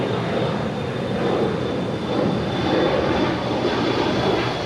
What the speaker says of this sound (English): Atlas Air Flight 8711 heading to Anchorage. 747-8. 25 left, clear for takeoff.